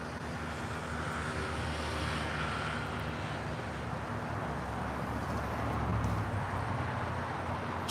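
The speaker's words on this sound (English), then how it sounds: "The Delta A330 Neo up next for arrival on the north side at 24 left" A Delta Airbus A330neo arriving from Tokyo Haneda approaches runway 24 left at LAX, a steady broadband jet roar that holds loud and even throughout with a slight swell near the end.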